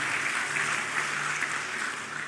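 A church congregation claps for Jesus during a sermon service, a soft, dense wash of many hands at moderate distance, steady throughout and slightly fading at the end, with no voices over it.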